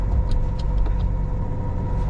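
A Honda Del Sol in fifth gear at about 4,000 RPM cruises at highway speed near 80 mph, a steady close engine drone with road and wind noise inside the cabin.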